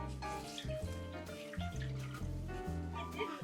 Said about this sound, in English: drop in 3/4 cup of water into the